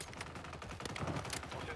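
Gunfire in Warzone, a dense run of close shots rattling through the whole short stretch, loud and steady with game sounds blended in.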